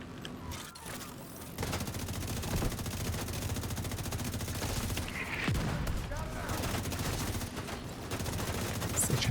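Rapid automatic autocannon fire in a military video game, a dense continuous stream of repeated shots with booming impacts mixed in, loud and sustained throughout.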